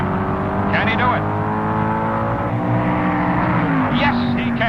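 A 1969 Superstock Eliminator drag race between a Mustang and a Plymouth, engines droning loud and steady throughout, with a commentator talking over the roar.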